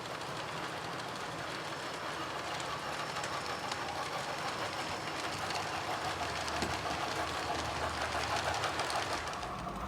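A small O scale model train rolls steadily along its track with a continuous rumbling clatter and faint clicking rhythm, close by, no talking.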